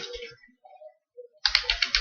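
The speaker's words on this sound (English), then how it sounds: "After that you have to type create partition primary command." A command typed on a computer keyboard, a brief quiet pause followed by a quick close run of crisp keystrokes.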